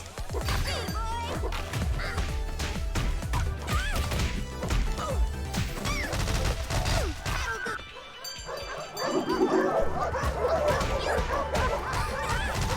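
A dog barks in the fighting game Them's Fighting Herds, mixed into a dense, busy game soundtrack of music, hits and crashes that continues throughout.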